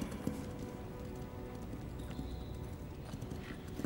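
Horse hooves clip-clopping at a steady walking rhythm, fairly close and continuous, alone with no voices, on a period scene about Napoleon.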